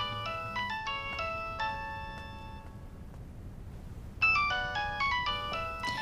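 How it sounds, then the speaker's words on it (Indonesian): A telephone ringtone plays a bright, chiming melodic pattern of quick electronic notes, pauses briefly, then starts again at a louder level over a faint background hiss. "Ada telepon."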